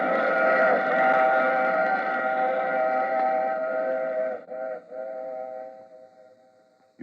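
A train in an old radio drama gives a sustained, reedy whistle-like tone that holds steadily, then wavers and fades away over several seconds.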